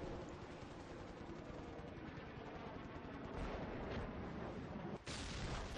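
Anti-ship missile striking a British warship in the IL2 1946 video game, a heavy rumbling impact roar that swells and stays loud, with a sudden sharp blast near the end.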